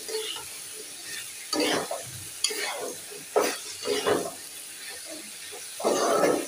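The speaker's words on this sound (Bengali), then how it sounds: "তরকারিটা সুন্দর করে কষিয়ে নিচ্ছি" Curry sizzles as it is fried in a pan in a Bengali home kitchen, with a utensil stirring and scraping in uneven bursts between quieter sizzling.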